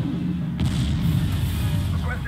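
Artillery support fire rumbles through a video game battle as a continuous deep, booming roar with a sharper burst partway through, loud and close.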